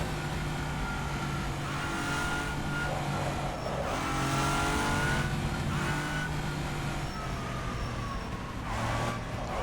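Hypercar racing in rFactor 2 on cold tyres, the engine droning steadily up and down through the gears with a tonal whine, loud and continuous from start to finish.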